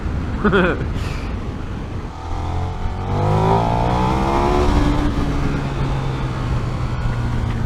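A KTM 1390 Super Duke R motorcycle accelerates hard, its engine note rising steadily through the revs under strong wind rush from an open-visor rider position, loud and continuous.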